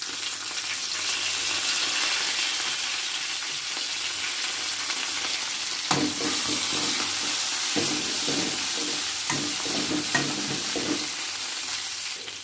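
Curry leaves and coriander dropped into hot tempering oil: a constant loud sizzle that flares up partway through, with stirring scrapes layered over it.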